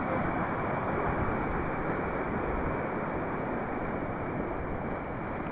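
Heavy rain-swollen floodwater rushing through hilly Kodagu country, a dense, steady broadband roar that fills the whole stretch without pause, loud and close.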